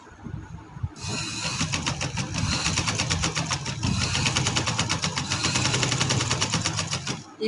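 A sewing machine stitches a trouser hem in one continuous run of about six seconds, a rapid, even mechanical chatter close by, starting abruptly after a quiet moment and stopping at the end.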